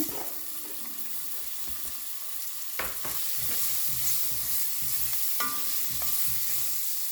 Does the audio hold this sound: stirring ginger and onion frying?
yes